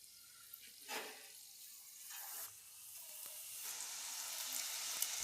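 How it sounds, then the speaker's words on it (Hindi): Battered eggs fry in oil one by one, a steady hiss that swells briefly as each goes in, then a continuous, fairly quiet sizzle that grows slightly louder. "ये देखिए, बस इसी तरह से दोस्तों एक एक करके अब हमें अंडों को फ्राई करना है।"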